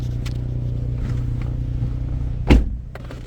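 A 2009 Chevy Cobalt with the 2.2 engine and 216,000 miles drives along, heard from inside as a steady low engine hum and road rumble, broken by one sharp thump near the end.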